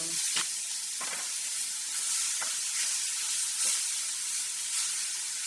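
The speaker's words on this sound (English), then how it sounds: "I'm going to stir my meat" Minced meat for a pie filling sizzles steadily in a pan, a constant bright hiss broken by a few sharp scraping strokes of a spoon stirring it, close and without speech.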